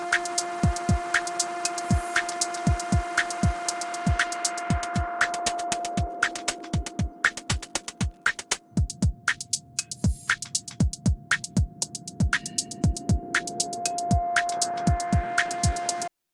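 The 'really bad fluorescent' preset on the Newfangled Audio Pendulate chaotic synth gives a steady electrical buzz hum laced with irregular rapid clicks and ticks that flutter in clusters, up close with no voices.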